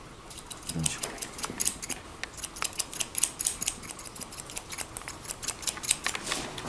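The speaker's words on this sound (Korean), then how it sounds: "옆가위로 해주는 게 낫습니다." Scissors cut hair for a mohican haircut in a barbershop, with a rapid series of crisp metallic snips and short pauses, close and distinct.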